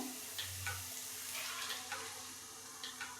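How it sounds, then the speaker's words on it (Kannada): Masala paste for a paneer curry frying in a pan, a soft steady sizzle with a few faint clicks of stirring, fairly quiet and with no talking. "ಸ್ವಲ್ಪ ಫ್ರೈ ಆಗಬೇಕು, ಅದನ್ನು ಫ್ರೈ ಆಗ್ಲಿಕ್ಕೆ ಬಿಡ್ತೀನಿ ನಾನು"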